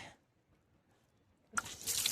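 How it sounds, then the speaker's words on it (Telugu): Water gushes from a drinking-water pump on the Anasuya Devi mountain trek in Uttarakhand, bursting in loudly after a long near-silent stretch and splashing steadily for the last half second. "చూసారా, అయితే నీళ్ళు వస్తున్నాయి, ఇవి కూడా తాగొచ్చు"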